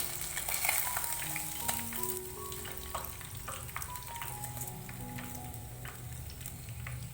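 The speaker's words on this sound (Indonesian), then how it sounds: "ikan saya goreng di api sedang" Pomfret fish fries in oil over medium heat, giving a steady, dense sizzle and crackle that runs throughout, close and alone with no talk.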